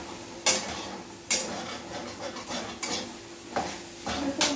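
Food being stirred and fried in a pan, with a low sizzle under repeated sharp scrapes and clatters of a spoon against the pan, about five distinct strokes, close and without talk.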